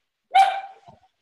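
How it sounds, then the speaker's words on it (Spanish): A pet dog gives one short, sharp bark close by, tailing off into a faint whimpering yip, heard alone in an otherwise quiet room during an online talk. "Ese es mi perro, perdón."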